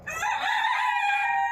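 An Egyptian Fayoumi rooster on a chicken farm with about 200 young laying hens lets out a single loud, close crow lasting over a second.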